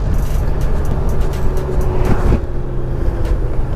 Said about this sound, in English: I'm going to check out that downshifting again because I am coming up here to a stop.